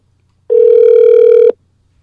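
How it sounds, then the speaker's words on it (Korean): A single long telephone ringback tone sounds as a Korean radio phone-in call connects, one steady beep of about a second, clear and alone against near silence. "전화 연결 빨리 해보겠습니다"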